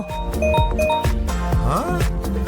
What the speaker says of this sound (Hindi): ओह, मुझे फोन की घंटी सुनाई दे रही है।